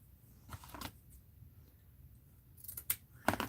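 Scissors cutting through paper or mixed-media material at a crafting table: a few short, crisp snips in separate bursts, close and fairly quiet, with no talking.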